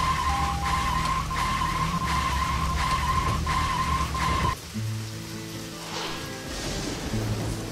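Car braking and skidding in the video game Deadly Premonition, a sustained tonal screech with engine drone for about four and a half seconds, then cutting off abruptly to a quieter rainy ambience with a low hum.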